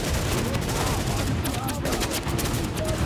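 Automatic turret gunfire in The Division at a Hudson refugee camp, a dense continuous rattle of shots filling the whole stretch, with voices talking underneath.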